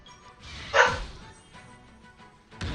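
A pet dog barks indoors, one sharp close bark followed by a fainter yip a moment later, with little else around it.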